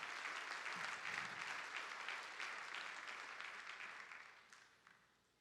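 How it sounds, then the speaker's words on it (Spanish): Church congregation giving a strong round of applause, dense clapping that holds steady and then tapers off toward the end, fairly distant and moderately quiet. "dale un fuerte aplauso"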